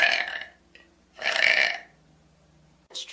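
A woman on a stream lets out two loud, drawn-out burps separated by a pause, with the start of a third at the very end, close to the microphone.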